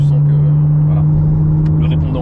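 A McLaren Artura's V6 engine hums loudly from inside the car as it pulls under throttle, a steady low drone with brief voice fragments over it.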